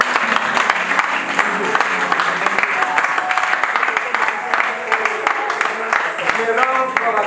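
A church congregation applauds and claps together in sustained, dense clapping, loud and close, with cheering voices mixed through the crowd noise.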